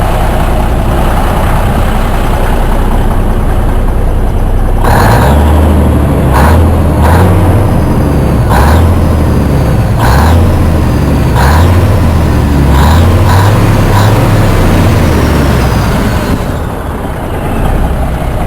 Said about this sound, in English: I'm gonna let you hear how it sounds with the straight pipe.